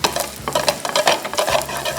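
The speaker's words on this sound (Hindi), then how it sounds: "ये देखें ये तड़का अब" Garlic and whole mustard seeds crackle and sizzle in hot oil for a fish curry tadka, a steady close frying hiss with scattered pops and some stirring, no voices.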